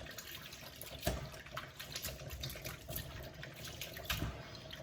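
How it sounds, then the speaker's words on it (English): Calamari is rubbed and washed in a tub of water, with soft continuous sloshing and occasional splashes, faint and close, with no talking. "Give them a rub-a-dub-dub, calamari in a tub."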